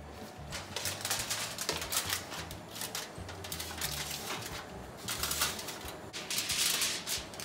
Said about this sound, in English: so I'm going to cover it with foil.